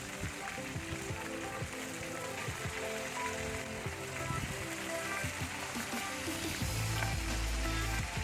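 Chicken pieces fry in oil with garlic, chilli and curry leaves, giving a continuous, moderately loud hiss and crackle like rain that holds steady to the end.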